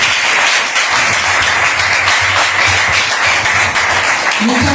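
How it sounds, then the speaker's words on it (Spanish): Loud, steady applause from an audience at a cultural management talk, dense clapping filling the whole stretch without a break and no voices over it. "Es que yo pido un aplauso para ella."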